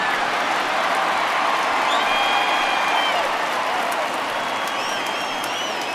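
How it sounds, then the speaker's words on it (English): A home crowd in the MLB The Show 20 baseball video game gives a departing Phillies pitcher a steady, sustained ovation, with applause and cheering filling the stadium evenly throughout. "he receives a nice ovation from this home crowd"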